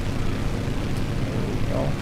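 Grumman G-21AS Goose twin-engine amphibian in a flight simulator game, its steady propeller engine drone holding loud and constant as the throttle is cut back, with no clear drop in level.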